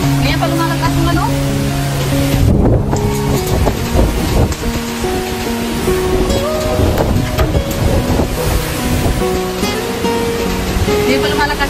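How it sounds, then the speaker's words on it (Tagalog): Strong typhoon wind roars and buffets the microphone in a loud, continuous rush, with gusting surges and clattering debris, and people talk and exclaim over it. "Ngayon pa lumalakas yung hangin guys."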